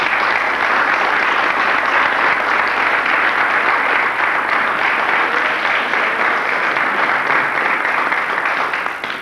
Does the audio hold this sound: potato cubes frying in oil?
no